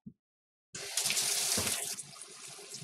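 A kitchen sink tap turned on, a short knock and then a sudden loud rush of running water that splashes steadily into the basin and eases slightly toward the end.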